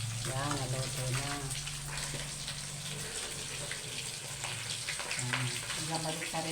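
Meat frying in a pan at home for a Filipino meal, a steady broadband sizzle running throughout with a low hum underneath and a voice talking intermittently over it.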